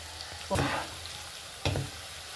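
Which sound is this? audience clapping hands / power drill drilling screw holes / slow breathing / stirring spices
stirring spices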